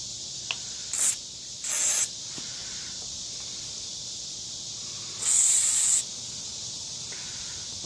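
WD-40 lubricant spray is applied to stuck nuts on a 1985 Ford F150 during a headlight bezel replacement, with three short hissing bursts, the last one longest, against a quiet background.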